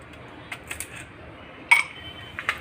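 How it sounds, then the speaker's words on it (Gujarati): Three or four ice cubes drop into a glass for kokum sharbat, a handful of sharp hard clinks spread over a couple of seconds, the loudest near the end, close and fairly quiet with no talking. "પહેલાં આપણે એમાં ત્રણ ચાર પીસ બરફના ગાંગડા નાખી દઈશું"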